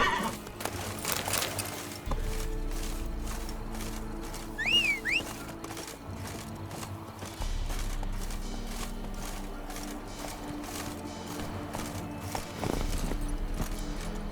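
A horse in The Witcher 3 whinnies clearly while its hooves clop in a steady rhythm, with riding and gallop sounds continuing underneath at moderate volume.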